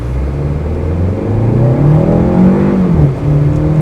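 A 2025 Kia K4 GT Line turbo sedan pulls hard from a stop in an empty parking lot, its engine note climbing steadily and loudly through the revs with no talking.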